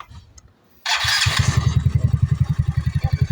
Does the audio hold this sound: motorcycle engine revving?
yes